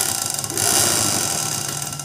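A sewing machine hums and rattles continuously while stitching a dhoti, a steady mechanical drone with no voices.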